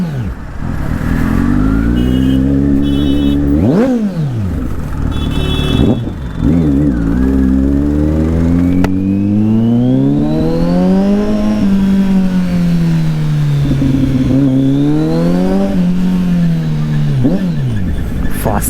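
A 2022 Kawasaki Z900 motorcycle engine pulling hard through the gears on a ride, loud and close, with rising revs, sharp dips at each shift and wind rush throughout.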